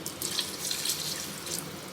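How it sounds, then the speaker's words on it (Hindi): Water pours steadily into a pan of fried masala for a mutton and potato curry, a continuous close splashing rush with no talking. "तो अब मैं इसके अंदर डालूँगी पानी"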